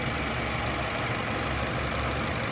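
A 1993 Nissan S13 240SX engine idles with a steady, even hum and broadband mechanical noise, close and constant for a few seconds, no voices.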